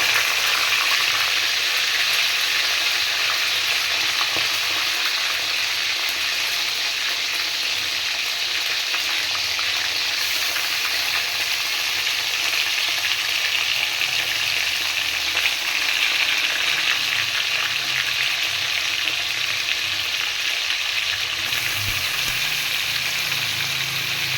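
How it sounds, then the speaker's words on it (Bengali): Chicken pieces for lemon chicken frying in hot oil, a steady loud sizzle and crackle that persists evenly without pause, with no one speaking. "তেলটা কিন্তু গরম হয়েই গেছে, এইভাবে আমি পিসগুলো তুলে তেলের মধ্যে দিয়ে দিই"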